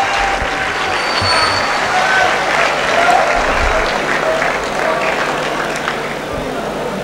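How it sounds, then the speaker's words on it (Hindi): Steady, full applause from a large audience at an annual mushaira welcomes a poet to the stage, dense clapping sustained and fairly loud for several seconds. "भरपूर तालियों में इस्तकबाल कीजिएगा"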